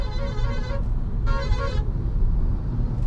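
Two loud car horn honks from a Skoda Slavia 1.0 TSI automatic, each about a second long, sounding close over a steady rumble of engine noise.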